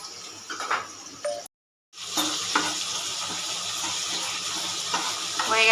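Ingredients frying in a pan give a steady, fairly loud sizzle with a few clinks and scrapes early on, a brief silent gap, then continuous frying hiss to the end.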